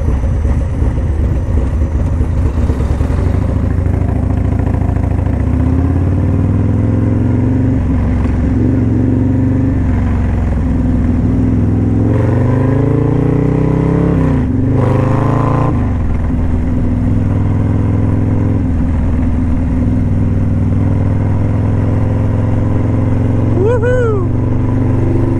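A motorcycle on a morning ride through Daytona, its engine droning steadily with shifting revs throughout, loud and close, with wind and road rumble underneath.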